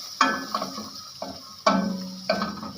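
Salt and black pepper fry lightly in hot oil, heard as soft sizzling with a few sharp spoon scrapes and taps against the pan at irregular intervals. The sound is close and quiet, with no talk.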